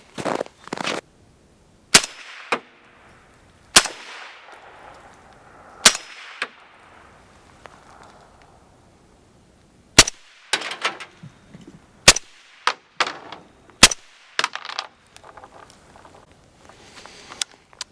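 Suppressed rifle shots through a YHM Bad Larry suppressor, roughly ten sharp reports spaced over the span, each a loud crack with a brief decaying tail, some closely paired, outdoors with no talking.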